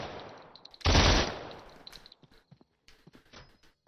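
AK rifle in the video game SURV1V3 letting off one loud, dense burst of about half a second. Quieter clicks and handling sounds come before and after it.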